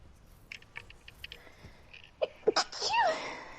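A single sharp sneeze bursts out near the end after soft clicks and taps, fairly faint and close, during a gaming stream.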